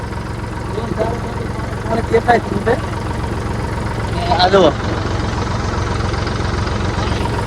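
A tractor engine idles in floodwater on a village road, a steady low rumble running beneath people talking nearby.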